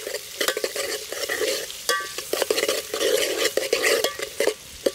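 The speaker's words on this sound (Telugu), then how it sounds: "ఉల్లిగడ్డ వేసుకొని కలబెట్టుకోవాలి" Onions fry and get stirred in a pan for a village-style mutton curry, with a close sizzle broken by repeated scraping and clinking of the spoon against the pan, no voices.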